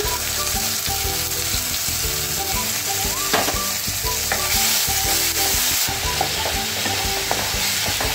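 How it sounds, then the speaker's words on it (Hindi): Onions fry with cardamom in a kadhai over medium flame, giving a loud close sizzle throughout with repeated scraping and stirring against the pan. "ये देखिए हमारे जो प्याज है कितना अच्छे से भून चुका है"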